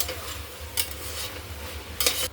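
A spoon stirs yogurt into soybean pulao in a pan, giving soft scraping and sizzling textures over a steady low hum, with two brighter scrapes against the pan.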